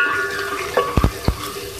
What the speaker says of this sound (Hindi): इसमें हम थोड़ा सा पानी ऐड कर रहे हैं ताकि हमारा मसाला नहीं लगे